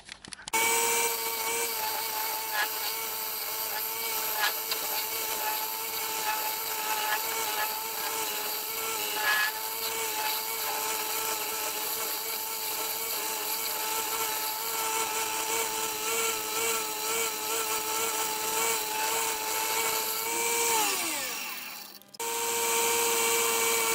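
Continuous whine of a wood lathe with a tool shaving steadily at the bottom of a spinning maple bowl, thinning it, close and loud, then the motor spins down near the end.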